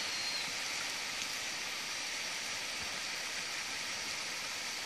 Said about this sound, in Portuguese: É chuva de bicho.